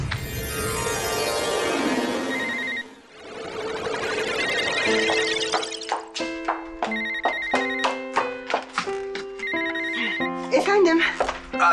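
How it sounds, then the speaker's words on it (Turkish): A telephone rings repeatedly in a sitcom scene, a bright electronic ring-tone pattern in bursts over layered music, loud and close, with no speech over it. "Sadık bir yere telefon açıyor"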